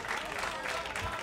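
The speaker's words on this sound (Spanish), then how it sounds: "Un aplauso." A crowd at a beatbox battle event claps and cheers in a dense wash of applause, with a voice faintly audible beneath it.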